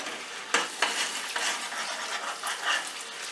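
Masala spices for chole frying in a pan, a steady soft sizzle broken by several scraping stirs of a spoon, close and moderately loud with no talking.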